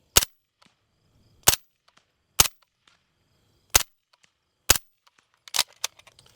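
A suppressed Zenith ZF5 MP5 fires subsonic rounds outdoors: five sharp, well-spaced single shots spread over several seconds, then a cluster of quieter clatters and impacts, with no talking.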